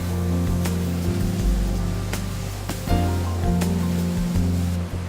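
Ginseng washing machine spraying roots at steady water pressure to strip off soil and sand: a continuous loud rush of spraying, churning water mixed with a low mechanical hum and scattered clanks throughout.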